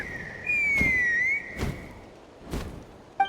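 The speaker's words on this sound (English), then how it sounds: "That sounded like a whistle." Whistle in Genshin Impact: a single clear sliding whistle tone held for about a second, with soft thuds spaced through the clip and a faint game ambience underneath.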